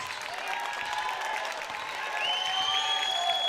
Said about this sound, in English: So the bench for CB West kind of getting loud, kind of clapping a little bit.